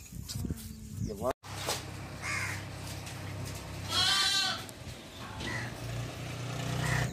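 A lamb bleats in a village setting, with a rising call near the middle standing out over a continuous low rumble, and people talking in the background throughout.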